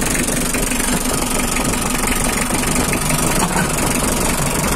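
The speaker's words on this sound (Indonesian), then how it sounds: "Untuk mesin istimewa, tidak ngebos, tidak mengkerat sama sekali." A 2011 Mitsubishi L300 pickup's engine idles warm at half temperature, a loud, close, steady diesel-like rumble with an even knock and vibration throughout and no talk.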